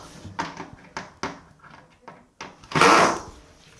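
A drawer is slid out and lifted free of a system hanger cabinet in a dressing room, giving several sharp knocks and rattles, ending in a longer, louder scraping slide, close by with no talk.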